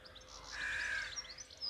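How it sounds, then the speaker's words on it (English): Crows cawing overhead on a coastal path walk between Torcross and Dartmouth, a few harsh calls at a moderate distance, fairly faint over a quiet outdoor background, with no talk. "It's very loud, ominous birds up there."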